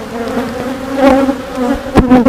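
Honeybees buzzing close up at an open hive colony during beekeeping, a loud, wavering drone of many wings with individual bees swelling past near the end.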